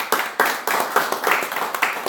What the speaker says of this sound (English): can you clap for yourselves, please?